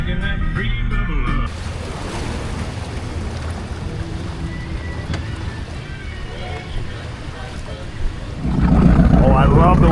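A 1970s big-block jet boat engine drones on the water with wind rushing past the microphone, the motor rising louder toward the end.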